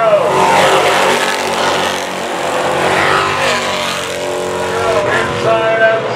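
Chevrolet late model race car at Capital City Speedway for a full moon race, a loud sustained engine roar droning steadily with a brief surge near the end, with a commentator talking over it.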